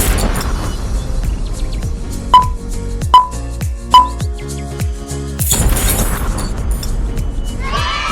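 A long chain of woven wooden popsicle sticks bursts apart in a rapid crackling clatter, with several sharper snaps standing out over a steady rattle of flying sticks.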